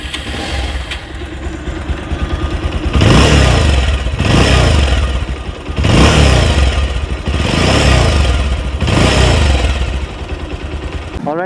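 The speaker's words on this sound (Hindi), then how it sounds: "एक बार जल्दी से एग्जॉस्ट नोट सुन लेते हैं इस बाइक का।" Bajaj Pulsar 220F motorcycle idling with its exhaust note, then blipped through four loud, steady revs of about a second each, dropping back to a rumbling idle between them; close and without talk.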